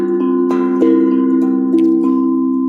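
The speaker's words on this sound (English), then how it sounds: "Except this is called cloud drum" A cloud drum, a handpan-like steel drum instrument from a Kontakt library, plays soft, bell-like tones. Several struck notes land in a gentle, uneven rhythm over a sustained ringing hum, with no talk.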